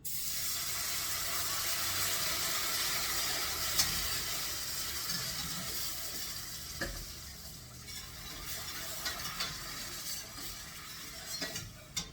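Meat patties frying in a pan give a steady broadband sizzle throughout, with a few light scrapes and clinks of stirring or utensil contact, close and fairly quiet, no voices.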